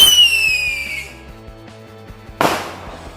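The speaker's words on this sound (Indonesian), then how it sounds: "Yang selanjutnya ini kita nyalain mercon roket pyro dari top" A pyro rocket firework shrieks upward with a falling whistle, then a pause of crackling before a sharp loud burst near the end, set off outdoors during a Ramadan fireworks session.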